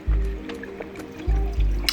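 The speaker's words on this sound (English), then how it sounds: "I just drank it all right now." A person drinking a liter of water in big gulps, close up, with deep swallowing pulses and sloshing liquid, two heavy gulps a second apart, no talk.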